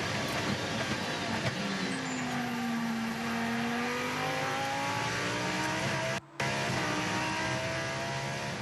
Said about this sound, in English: The sweet sound of a V10 powering a Lamborghini Gallardo GT3 car